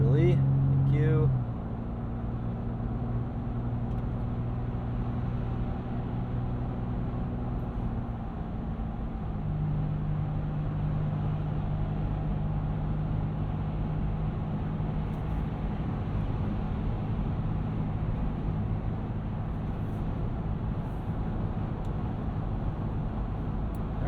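Steady road and engine drone from inside a 2022 Toyota 4Runner TRD Pro building speed on a highway, a broad continuous rumble that rises slightly early on and holds level throughout.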